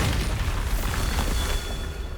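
Bombarda explosion spell in Hogwarts Legacy during a Merlin trial, a short, loud, rumbling boom that carries on as a low roar before easing slightly, with no talk.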